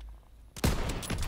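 Gunfire in a WW2-era online shooter's gun game mode, a quiet lead-in followed by a loud burst of rapid shots close by.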